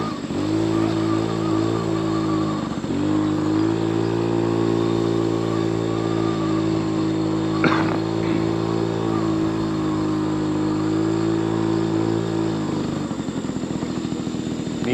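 A 1979 Honda Express moped ridden through a yard, its small engine droning steadily and close for the whole stretch with a slight dip in pitch midway and easing off at the end.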